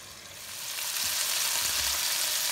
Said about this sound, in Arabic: نبدي هسه شوية نشوح الدجاج، يعني ننطيه لون وينطبخ شوية بس من الصفحتين